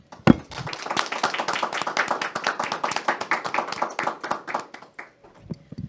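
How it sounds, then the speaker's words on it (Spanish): A small audience claps after a sung hymn, a run of distinct, fairly close hand claps in a loose steady rhythm that stops abruptly, leaving a few last taps. "con un fuerte aplauso"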